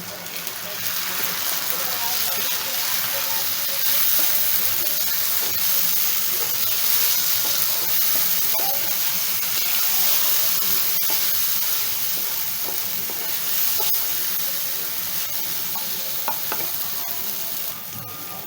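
Mustard paste sizzles loudly and continuously in a hot pan while shorshe ilish (hilsa in mustard sauce) cooks, a steady frying hiss with occasional stirring.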